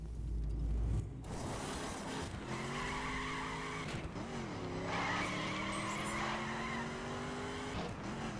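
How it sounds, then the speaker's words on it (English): Car skidding in a racing video game, a thud at the start followed by long, wavering tire squeals over steady engine drone, loud and continuous for several seconds with no talk. "God damn it, I crashed."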